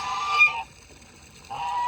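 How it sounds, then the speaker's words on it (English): A guard goose on a homestead honks loudly and nearby in winter, with two drawn-out nasal honks separated by a brief quiet gap. "this might be hard to see and might be hard to hear because of our guard goose"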